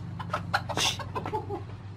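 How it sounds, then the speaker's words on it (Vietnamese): Chicken clucking in a rural Northwest Vietnam home where a hen has been pecking at a sack of rice, several short uneven clucks close by over a steady low hum. "con gà này mổ hết bao thóc nhà mình rồi"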